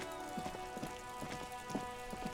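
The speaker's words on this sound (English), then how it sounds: "Very nice rain." Steady rain falls in the video game Disco Elysium, a dense even patter with soft droplet ticks and faint repeating thuds throughout, with no one talking.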